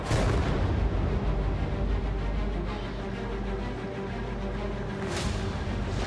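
Continuous heavy rumbling with deep booms and blasts, a dense roar of distant explosions from drones destroyed in the sky over Ukraine during the Russia-Ukraine war, swelling again near the end.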